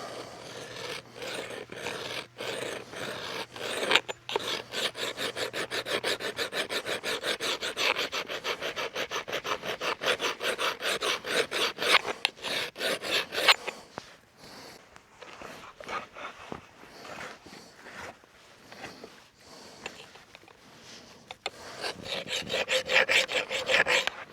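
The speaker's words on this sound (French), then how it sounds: "on va aller user un petit peu plus loin sur le bord de notre lame" Steel axe blade being hand-filed along its damaged edge, a steady run of rasping strokes close up for about thirteen seconds, then a quieter stretch of lighter, scattered filing before the strokes build again.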